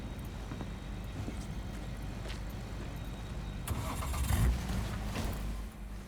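A car engine in Cyberpunk 2077 cranks and catches, then settles into a low, steady idle rumble with a brief rise in revs.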